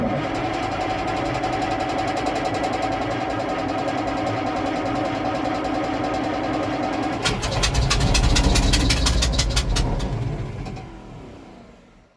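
A Kirovets K-700A tractor engine cranks steadily in winter for several seconds, then a deeper rumble with rapid firing pulses joins before the sound fades away.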